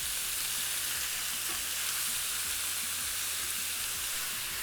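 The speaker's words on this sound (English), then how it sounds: "dump in this beef that's been pre-sliced into a hot sizzling pan" Steady, loud sizzling of pre-sliced beef frying in a hot pan, a continuous bright hiss with faint crackles throughout.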